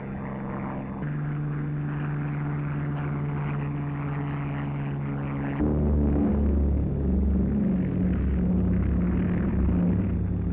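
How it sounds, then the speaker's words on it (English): Corsair and Barracuda propeller warplanes take off from an aircraft carrier, a loud, steady droning roar with a throbbing low hum that swells partway through as engines power up. "Corsair and Barracuda planes roar into the sky."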